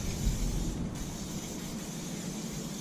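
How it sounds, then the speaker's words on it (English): Steady broadband hiss of a cooking spray can coating a grill grate set to low-medium heat, ahead of grilling fish skins; a continuous close spray lasting a few seconds with no talking. "spray down because this skin is going to stick"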